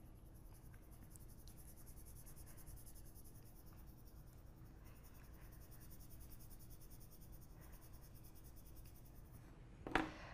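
Colored pencil shading with lilac over paper makes a quiet, continuous scratchy rasp of steady strokes, close and soft, ending with a brief sharper tap near the end.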